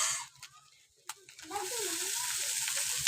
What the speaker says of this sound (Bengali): চলো এর মধ্যে এবার চাউমিনটা দিয়ে দেব, দিয়ে খুব ভালো করে ভাজতে হবে।